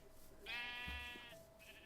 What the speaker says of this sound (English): Oh, there are several sheep.